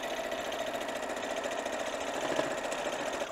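A sewing machine runs steadily while stitching a French seam, producing a continuous, even mechanical whir and rapid needle chatter at close range, with no voices.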